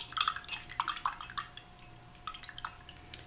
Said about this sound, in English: I'm gonna wash and dry the brush